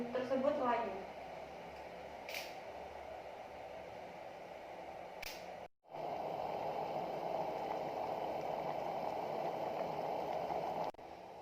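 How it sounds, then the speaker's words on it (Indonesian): Leaves simmer in water inside a portable electric boiler, producing a steady low bubbling hiss that continues unbroken apart from one brief dropout, with a person speaking faintly at the very start. "Kita rebus daunnya sampai daun tersebut layu."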